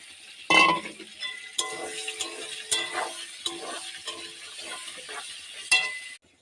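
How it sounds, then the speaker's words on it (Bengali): Onion with cumin, garlic and chili being stir-fried in a pan, a soft sizzle punctuated by a loud first clatter and repeated spatula scrapes and clinks against the metal, ending abruptly. "মশলা এই কষানো হচ্ছে,"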